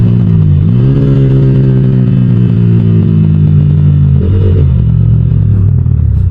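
A Yamaha R15 V4 motorcycle with a modified exhaust drones loudly up close, its deep engine note dipping as a gear is shifted early on, then jumping again partway through.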